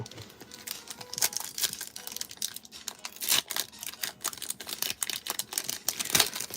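Crinkly plastic wrapper of a Pokemon trading card pack being peeled open, a series of soft, close crackles and rustles with a few sharper tearing bursts, no talking.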